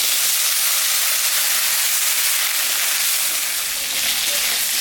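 Fish curry with radish, eggplant and potato fries hard in a hot pan, making a loud, continuous hissing sizzle that fills the whole clip.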